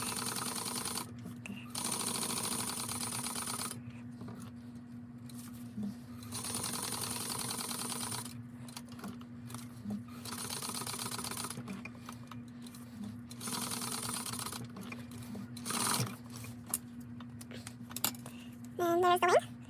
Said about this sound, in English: I'm gonna start on this side right here so I can back stitch because that's gonna be in the seam.